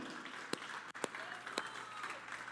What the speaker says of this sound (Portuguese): Apesar de tudo isso, pode aplaudir.